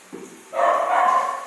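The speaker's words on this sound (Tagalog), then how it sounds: "Kaya tahol-tahol ng isa" A single dog barks and whines in a drawn-out, sustained vocalization, fairly close and loud, after a brief softer yip at the start.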